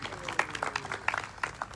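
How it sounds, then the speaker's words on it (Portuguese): Scattered, fairly light applause at a book launch in Bissau, individual claps standing out irregularly, with faint talk in the room. "Uma salva de palmas."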